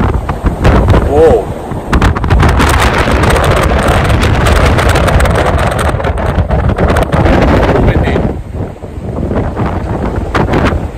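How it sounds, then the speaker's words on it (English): Strong wind outdoors on a merchant navy ship at sea roars steadily and loudly with heavy buffeting on the microphone, easing slightly near the end. "outside you would know how strong the wind is"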